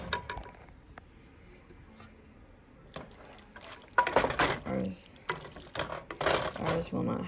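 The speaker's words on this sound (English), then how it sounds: "I'll go ahead and stir ours up." Skillet pasta quadrettini being stirred in a pan, with wet scraping and sloshing strokes that grow louder and come in bursts near the microphone during the second half.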